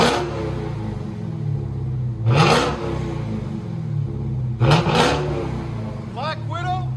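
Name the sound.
Dodge Challenger Hellcat 6.2L HEMI exhaust revving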